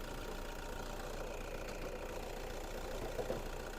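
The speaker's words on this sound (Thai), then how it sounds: "เสียงหน้าห้องเครื่องรถสตาร์ทอยู่" A 2012 Toyota Vigo Champ 2.5E manual-transmission pickup idles with its hood open, giving a steady, even low rumble heard close to the engine bay with no voices.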